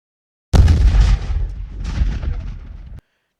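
Rapid burst of gunfire from Grok's weapon in the Paladins video game, a loud booming volley lasting about two and a half seconds with a brief dip midway.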